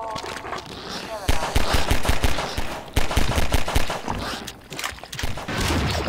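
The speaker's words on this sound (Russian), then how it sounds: "Так бочку взорвал вместе с ними, со всеми." An explosive barrel blows up amid heavy gunfire in a Half-Life 2 co-op match: dense, loud rapid shots and blasts crowd the whole stretch, close and continuous, with voices mixed in.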